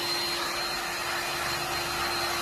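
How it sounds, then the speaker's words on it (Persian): A hair dryer blows steadily to heat car window tint film, a continuous airy whir with a faint high whine, close and loud throughout. "همین راحتی سشوار میزنید"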